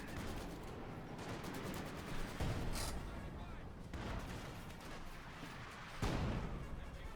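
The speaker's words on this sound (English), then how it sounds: "Machine gun fire there" Machine gun fire crackles during a Company of Heroes 2 match between Wehrmacht and Soviet forces, faint bursts mixed with heavier booms, while a commentator talks over the battle.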